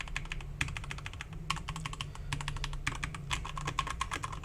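Fast, steady typing on a Keychron K2 V2 mechanical keyboard, not very clicky, close up, with dense overlapping keystroke clicks over a low background hum; no one speaks.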